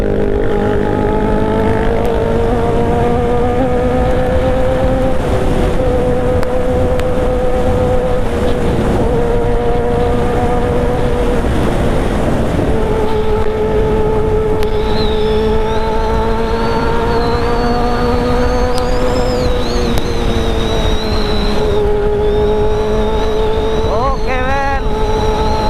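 Big motorcycle engines on a Sunday morning group ride in Malang, a loud continuous droning roar with rising and falling revs and a sharp rev burst near the end, with some voices underneath.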